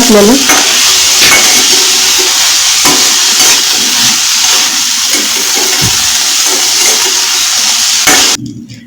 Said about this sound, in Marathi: पाच मिनिट फक्त परतून घ्यायचं आहे